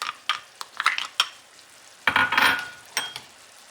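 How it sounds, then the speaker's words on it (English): Onion and vegetables dropped into a pan where meat is cooking, with a few sharp clinks and stirring clatter followed by a brief burst of sizzling, close up and without speech. "our vegetables that are going to be sauteing in the meat while it is cooking"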